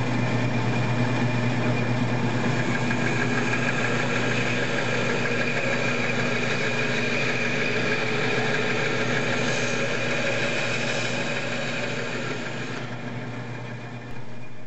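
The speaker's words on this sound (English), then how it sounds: "take them over to the bandsaw and trim off some of the waste" A bandsaw trims waste off wooden knob pieces, a steady close motor hum with a continuous cutting whine that eases off near the end, with no talk.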